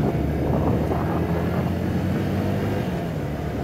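A Suzuki 155 cc motorcycle rides along an open road in Santiago de Veraguas, Panama, with a steady engine drone buried under heavy, continuous wind rush, close and loud throughout.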